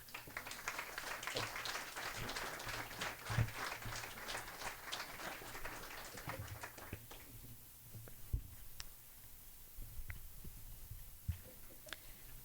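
Scattered clapping from a small group, dense at first and then thinning to a few isolated claps.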